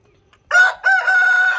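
A rooster on a free-range poultry farm lets out a single loud, close crow lasting about a second, with a short break after the opening note, against an otherwise quiet background.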